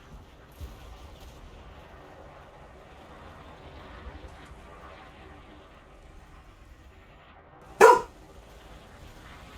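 A pet dog barks once in the background, a single loud sharp bark near the end after a stretch of quiet room noise on a wet day.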